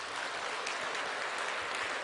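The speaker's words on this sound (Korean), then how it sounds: "박수 한번 해요." A church congregation applauding during a Sunday sermon, a faint, steady wash of clapping that fills the whole moment without speech.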